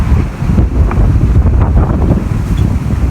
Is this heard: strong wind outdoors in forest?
yes